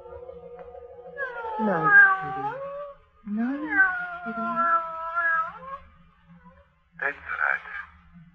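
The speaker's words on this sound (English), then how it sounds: "that's a handsome cat you've got there" A cat in an old-time radio mystery drama gives three drawn-out meows, the first two long and wavering, the last a short, sharp yowl, close and clear against a quiet background.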